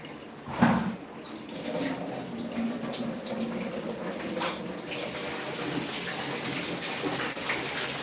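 Tap water gushing steadily into a container at close range, a continuous broadband rush with a brief louder splash near the start and no talking.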